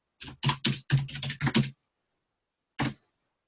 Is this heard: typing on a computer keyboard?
yes